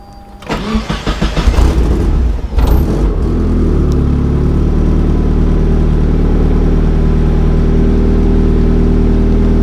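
A Mazda Miata fitted with stiff polyurethane motor mounts cranks with a rapid starter whir, catches loudly, then settles into a steady, close, even idle.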